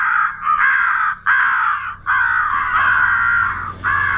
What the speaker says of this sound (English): the first one was crow gathering